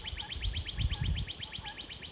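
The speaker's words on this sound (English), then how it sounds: "there's that red bird down in there" A red songbird calls repeatedly at a steady rhythm, in a short series of bright chirps, out in nature while walking in June near a nest, with low rumbling handling noise underneath.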